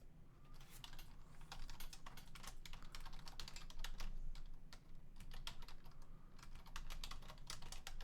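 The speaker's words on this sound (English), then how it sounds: "I'm just gonna type it in" Rapid typing on a computer keyboard at a desk, a dense run of close, quiet key clicks with brief pauses between bursts.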